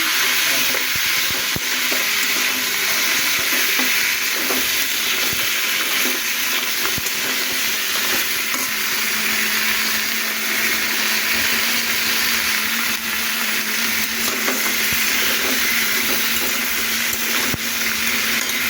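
Crabs rubbed with turmeric and salt fry in hot oil in a pan, a steady close sizzle with occasional stirring scrapes running throughout, no talking.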